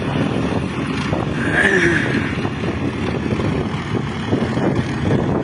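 A steady, close tractor engine rumbles continuously while lifting soil with an attached machine, mixed with rough wind buffeting the microphone.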